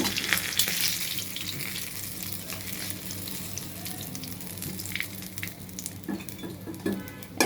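Catla fish pieces frying in a pan of hot oil, a steady dense sizzle and crackle that holds loud throughout with no voices, close up.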